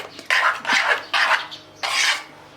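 A spoon stirring powdered sugar and cardamom into thick strained yogurt for shrikhand: four rasping, scraping strokes in a slow uneven rhythm, close and fairly loud with short quiet gaps between.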